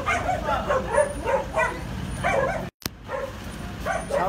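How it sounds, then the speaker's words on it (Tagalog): A dog yips and barks repeatedly in short, high bursts outdoors, with whimpering yelps in between and a brief dropout in the middle, over faint background noise. "May aso"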